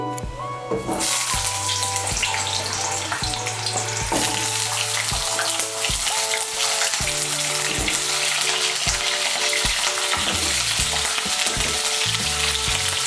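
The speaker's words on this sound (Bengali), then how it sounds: "তেলটা গরম হয়ে গিয়েছে, এর মধ্যে আমি আলুগুলো ভেজে নিচ্ছি" New potatoes fry in hot oil, a loud, dense, unbroken sizzle heard up close, with faint clinks of a utensil moving them in the pan.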